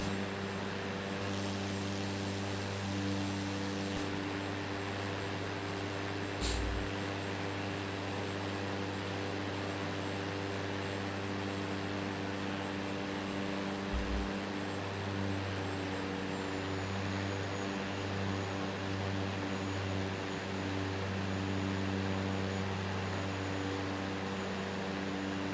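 A Cessna C208 engine in Microsoft Flight Simulator drones as a steady, loud propeller hum with strong low tones, unchanging throughout and with no talk, only a brief click or two.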